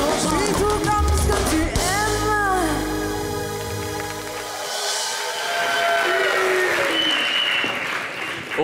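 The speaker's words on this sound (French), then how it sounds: "Merci d'applaudir Horoscope, good job." A live TV studio audience applauds the performer Horoscope, a dense sustained clapping that runs the whole stretch with cheers and shouts woven in.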